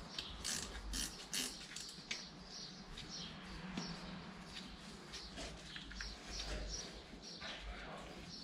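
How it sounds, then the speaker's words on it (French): A small wrench ratchets with quick metallic clicks while tightening a part on a Renault Megane 2 1.6 16v engine, close and intermittent amid light workshop handling noises. "tu prends ta petite clé vis et tu peux serrer le schmilblick bien comme il faut"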